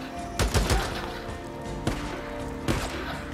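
Gunfire in a zombies shooter game: a fast burst of several shots early on, then two more single cracks spaced apart, fairly close and sharp over a low droning game ambience.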